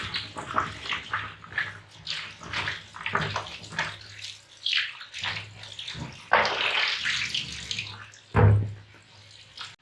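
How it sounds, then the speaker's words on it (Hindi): Tap water runs and splashes unevenly while chicken feet are rubbed and rinsed under the stream, with no talking. "पंजों को हमने अच्छी तरह 3-4 दफ़ा धो लिया मसल मसल कर।"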